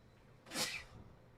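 A single sharp sneeze, close and abrupt, bursting out of a quiet room and fading within a second.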